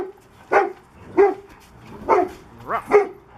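Several dogs bark at a dog rescue party, including a large puppy facing off against big pointers, giving five loud, close woofs in an uneven rhythm with no talk over them.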